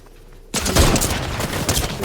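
Gunfire in the video game Fortnite, a sudden dense burst of rapid shots that starts abruptly after a short quiet lead-in and continues loudly to the end.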